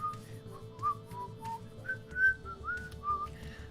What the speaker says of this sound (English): Are you able to whistle Paul McCartney's "When I'm 64"?